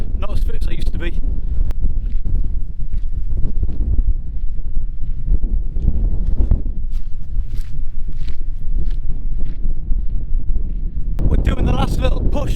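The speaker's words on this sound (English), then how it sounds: "it's so windy" Strong wind buffets the microphone in a constant low roar on an exposed hilltop in the Scottish Borders, with occasional footsteps and rustling close by.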